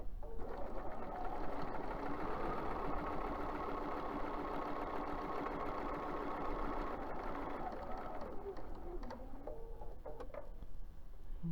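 A sewing machine stitches a spring chicken basket, its motor humming in a continuous fast, even run close by, easing off near the end with a few light clicks and no talking.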